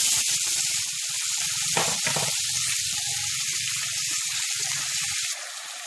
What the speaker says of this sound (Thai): ผัดเลยก่อน